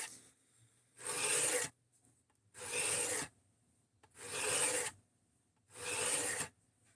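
A knife blade rubs across a multi-grit sharpening stone block with 200 to 600 grit sides, in four long, even rasping strokes about a second each, separated by short quiet gaps, close and with no talking.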